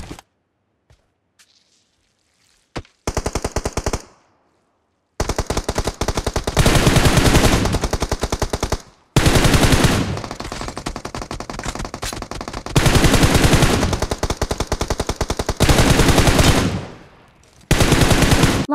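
Rapid bursts of automatic gunfire from the PUBG Mobile video game, loud and close, firing in several long volleys separated by short pauses, with a few isolated shots at the start.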